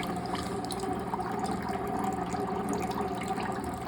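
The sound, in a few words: water flowing from hose into bucket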